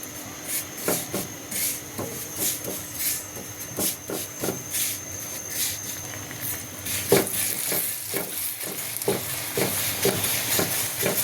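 Hotel-style flour paya fries in a little oil, with repeated rhythmic scraping and stirring strokes over a soft, continuous sizzle, close and without speech.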